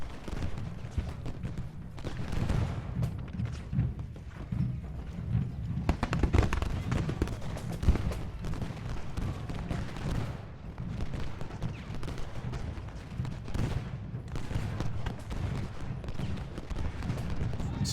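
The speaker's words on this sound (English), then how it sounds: "Canister shot." Canister shot artillery fire rumbles through a Gettysburg battle in Ultimate General: Gettysburg, a dense, continuous wash of distant booms and musketry with stronger bursts midway.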